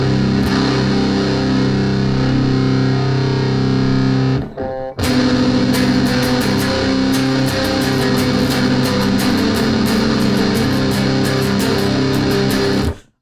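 Heavily distorted metal electric guitar played through a Sondery Metal distortion pedal, loud sustained chugging chords with a brief break near the middle before dense, driving palm-muted riffing resumes.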